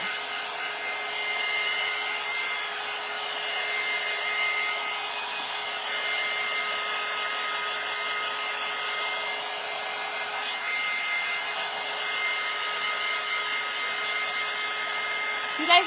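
Hair dryer blows steadily to dry hairspray on primitive-style craft dog bones, a constant airy whine with a fixed tone held at a distance, unbroken for the whole stretch.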